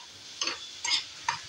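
Paneer bhurji stir-fried in a pan over high flame, with three short scraping, sizzling bursts of stirring spaced about half a second apart, fairly close and moderately loud.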